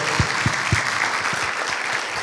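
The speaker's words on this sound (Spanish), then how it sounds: "Pido un aplauso para Nico por haber venido y contarnos todo" A short burst of clapping, with a few distinct claps standing out at first before blending into steadier applause.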